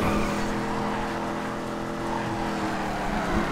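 Car drifting in the FiveM driving game, played with a gearshift setup: continuous engine roar with sustained tire squeal and skidding, loud and close throughout.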